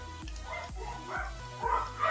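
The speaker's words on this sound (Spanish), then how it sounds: "Ahí está los perros a mi vecina." Dogs at a neighbour's house bark repeatedly, a quick run of sharp barks and yips with a whimper among them, heard indoors over faint background sound.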